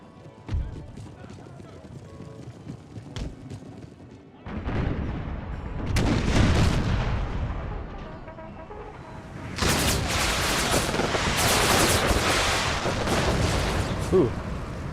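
Deep booming howitzer artillery shots in Empire: Total War (Brothers vs. Brothers mod) go off, the first ones muffled and distant, then heavy blasts and rolling rumble in several loud waves.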